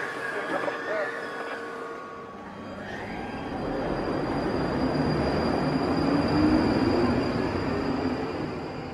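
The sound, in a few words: London Underground Northern Line train at the platform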